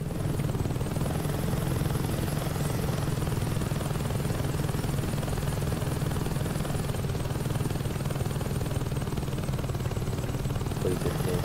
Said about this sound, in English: Hope you know how to fly a helicopter.